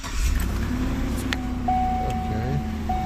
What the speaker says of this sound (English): I think we have to turn the car on.